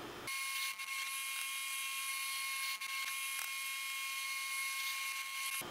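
A countersink bit drills into a guitar headstock, giving a steady high-pitched whine that continues almost without a break for several seconds, close and alone.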